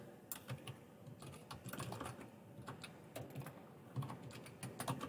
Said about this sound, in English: It's so hard to type while I'm recording a video for you guys.